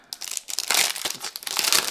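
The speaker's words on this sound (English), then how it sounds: "Take the cheap plastic bag off." A cheap plastic bag is peeled off a comic book during an unboxing, giving a close, continuous crinkling and crumpling of thin plastic that swells louder toward the end.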